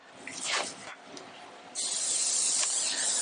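A steady, close hiss of aerosol cooking spray onto a cookie sheet starts partway through and continues to the end, following a few softer rustling sounds.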